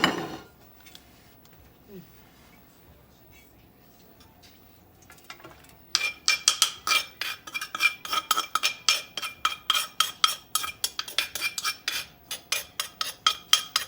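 A utensil clinks steadily against a dish as som tam papaya salad is moved onto a plate. Rapid, bright, close taps follow a quiet stretch and keep a brisk, even rhythm.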